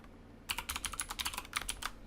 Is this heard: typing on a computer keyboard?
yes